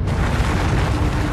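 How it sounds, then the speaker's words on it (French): Deep, rumbling explosion effect for cosmic blasts a hundred billion times brighter than the Sun, a dense, loud roar sustained without a break and with no voice over it. "Elles donnent lieu à des explosions spectaculaires."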